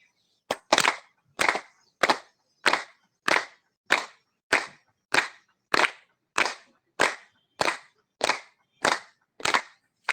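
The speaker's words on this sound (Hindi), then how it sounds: "ताली बजा लेते हैं 15 बार।" Hand clapping during a yoga session, about fifteen sharp, evenly spaced claps in a steady rhythm, close and clear with no talking.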